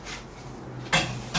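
Homemade kimchi ingredients being tossed together in a bowl, with a low rustle broken by two sharp clinks of utensil against the bowl.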